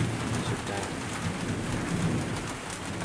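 Heavy rain falls in a village during a thunderstorm, a dense, steady hiss with a low rumbling undertone, continuous and fairly loud throughout.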